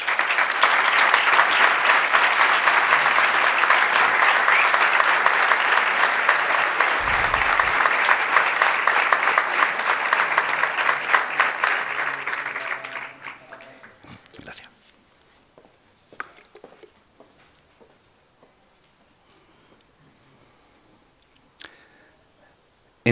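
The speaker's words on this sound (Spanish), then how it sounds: "Solicito para todos ellos el mejor de nuestros aplausos" Loud, sustained audience applause at a local police day ceremony runs for about thirteen seconds, then dies away into scattered clicks and near silence.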